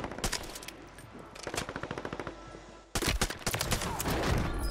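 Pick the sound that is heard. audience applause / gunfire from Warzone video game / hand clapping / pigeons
gunfire from Warzone video game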